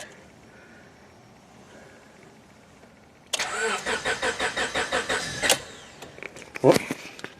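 A car engine being jump-started with a LokiThor jump starter after a low battery: rapid rhythmic cranking pulses for about two seconds, then the engine catches and fires up, close and loud, with a quiet lead-in before it.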